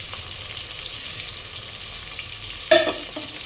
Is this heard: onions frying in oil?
yes